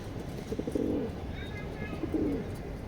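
Racing pigeons in a loft give two soft, throaty coo phrases, fairly faint against a steady background hiss, with no clear speech.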